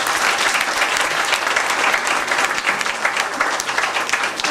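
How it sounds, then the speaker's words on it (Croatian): An audience at a Bunjevac carnival evening gathering breaks into loud, sustained applause for an honoured guest, dense and continuous clapping from a large crowd throughout. "Onda jedan veliki aplauz sa Makija."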